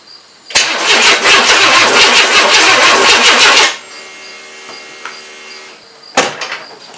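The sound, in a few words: car engine cranking after engine install, stuck starter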